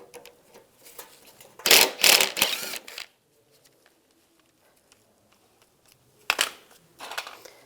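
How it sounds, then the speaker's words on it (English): A bolt under a 1999-2005 Volkswagen Jetta, near the A/C condenser, is worked loose with a T30 socket: two bursts of close metallic ratcheting and clicking separated by several seconds of near silence. "Now we'll take this bolt out under here. Just use the T30 socket."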